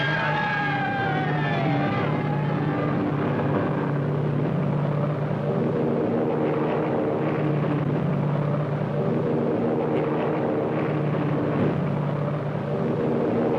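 Pan Am China Clipper flying boat, a 1935 transpacific airliner, droning steadily with a low engine hum throughout, a loud continuous rumble with faint tonal sweeps early on.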